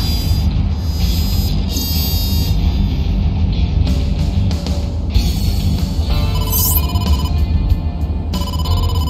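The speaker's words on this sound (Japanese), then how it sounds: "伊達、ボスから電話だ。" A phone rings in the video game AI: The Somnium Files, a loud electronic ringtone repeating steadily over a constant low background hum and music, with no voices.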